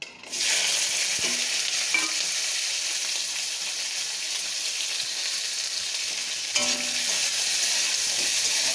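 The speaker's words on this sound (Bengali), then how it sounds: "তেলটা আমার এখন গরম হয়ে গেছে। এখন দিয়ে দেবো এই যে টমেটো, পেঁয়াজ কুচি আছে, টমেটো কুচি আছে, রসুন আর আদা, এগুলো আমি এখন সব তেলের মধ্যে দিয়ে দেব।" Chopped onion, tomato, garlic and ginger hitting hot oil, giving a steady, loud sizzle and crackle that runs on without pause, with a couple of faint stirring scrapes.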